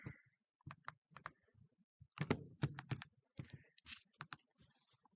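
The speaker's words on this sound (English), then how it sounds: "So I'm going to type it in" Faint keystrokes on a computer keyboard as an algebra expression is entered, coming in irregular clusters of clicks separated by short silences, with no voices.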